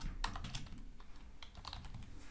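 Quiet, uneven clicking of keys on a computer keyboard while entering a dollar value in an Excel spreadsheet, a quick burst of taps followed by a short pause and more typing.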